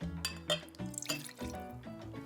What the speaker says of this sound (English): Now let's pour a little into the glass.